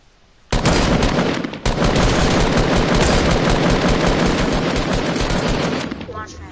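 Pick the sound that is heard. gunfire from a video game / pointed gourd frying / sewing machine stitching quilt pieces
gunfire from a video game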